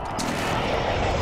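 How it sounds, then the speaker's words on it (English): Explosions from an enemy precision airstrike in the online multiplayer video game Call of Duty Modern Warfare, a dense continuous roar of blasts and gunfire, loud and close, with no talk. "Enemy precision airstrike."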